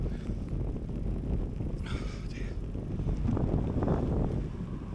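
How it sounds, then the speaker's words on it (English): Strong wind buffets the microphone while cycling on a wet, windy day in Littlehampton, producing a constant low, rumbling roar that swells and eases, with faint background sounds. "it's getting windier and windier"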